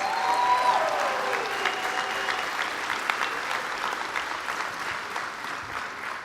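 A high school graduation audience applauds the top ten percent of the senior class, broad sustained clapping from a large crowd in a big hall, steady and moderately loud, with a brief tonal sound near the start.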